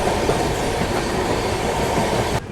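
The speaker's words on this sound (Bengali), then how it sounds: "মাসাগ্রাম স্টেশনে 10 মিনিট দাঁড়ানোর পর এইমাত্র ট্রেনটি ছাড়ল।" The Jammu Tawi Express pulls away from Masagram station with a dense, close, steady rumble and rattle of wheels and carriages, which cuts off abruptly at the end.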